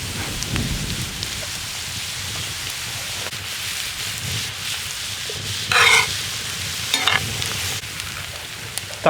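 Quince pieces hit a pan of golden fried onions and sizzle steadily while a spoon scrapes and stirs, with a few sharper clatters near the end.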